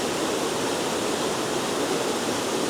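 Enders Falls pours in a dense, unbroken roar of rushing water, loud and steady throughout with no voices.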